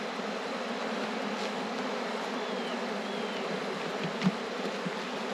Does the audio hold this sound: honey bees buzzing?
yes